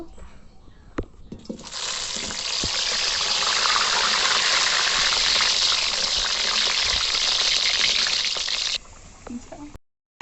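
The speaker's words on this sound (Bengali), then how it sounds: "কড়াইয়ে তেল গরম হয়ে গেছে, তাই আমি মাংসতে আলু দেব। আলুগুলোকে ভেজে নেব।" Potatoes dropped into hot oil in a wok, for a chicken kosha, set off a loud, steady sizzle that swells after a few clicks, holds for several seconds, then cuts off abruptly.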